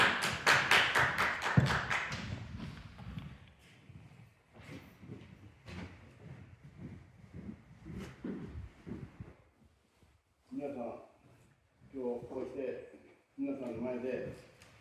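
Church congregation applauding to welcome missionaries, a dense burst of clapping in the opening seconds that fades into room noise and scattered sounds, with people talking afterward.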